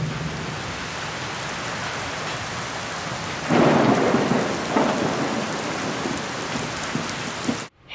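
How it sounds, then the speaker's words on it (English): Steady heavy rain hisses throughout, swelling with a low rumble of thunder midway before cutting off abruptly. "it began to rain"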